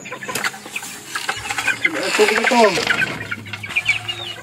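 Backyard pet chickens, including young stags, clucking and calling close by in short bursts with some wing flapping, mixed with a person's voice and light movement.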